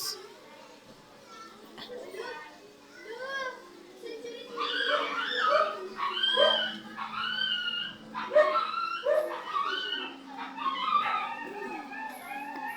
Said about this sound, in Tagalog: Pasensya na guys, maingay aso